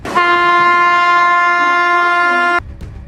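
A Mumbai local train at a station platform sounds one long, loud, steady horn blast of about two and a half seconds that cuts off abruptly, leaving faint platform noise behind it.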